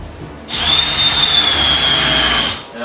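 A power drill with a small countersink bit bores into wood on a portable workbench, one loud, close, high whine lasting about two seconds, starting abruptly and cutting off cleanly.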